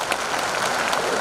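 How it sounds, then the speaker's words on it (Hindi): Loud, steady applause from an audience at a political convention in a Patna hall, sustained and dense throughout with no speech over it. "जोरदार तालियां एक बार।"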